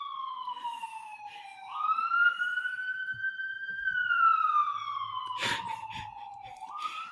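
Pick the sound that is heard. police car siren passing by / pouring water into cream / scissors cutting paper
police car siren passing by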